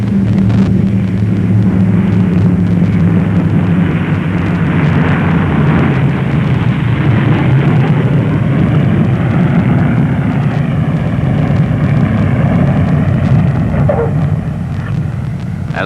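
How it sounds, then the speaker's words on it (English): Douglas DC-6 four-engine propeller airliner landing on a snow-covered runway, its steady loud engine and propeller drone shifting in pitch as the propellers reverse, continuous and close with no talk. "As the wheels touch down on the snow-covered runway, the pilots pull back the throttles, reversing the pitch of the propeller."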